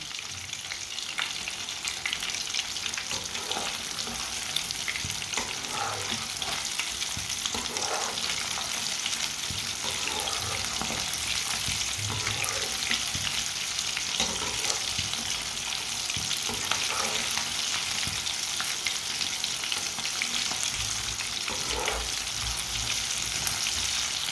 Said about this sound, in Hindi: अच्छी तरह इसे फ्राई होने देना